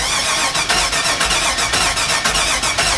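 A 2001 Chevy Suburban with a bad fuel pump cranks over in a steady, rhythmic churn of starter pulses, loud and close, lasting the full few seconds without voices.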